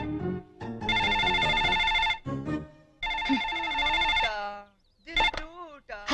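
A telephone rings with repeated bright electronic bursts, close and loud, as a comic Telugu scene plays out; voices and playful vocal sounds overlap the ringing, which cuts in and out in several bursts.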